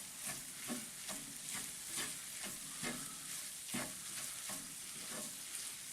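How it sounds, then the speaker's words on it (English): Tomato paste is stirred into a vegan nacho filling in a hot pan, a steady sizzle broken by rhythmic scraping strokes about once every second, close and alone with no talk. "Get that stirred in."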